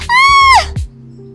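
A cartoon woman screams as her sari catches fire at a kitchen stove, one loud, close, wavering cry cut off by a low thump.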